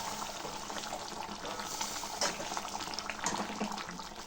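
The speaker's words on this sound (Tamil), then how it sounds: "நம்ம வந்து தேவையான அளவு தண்ணி ஊற்றிக்கலாம்." Water is poured into a pot of fish curry seasoned with turmeric, a faint, continuous splashing trickle with a few small clinks, no voices over it.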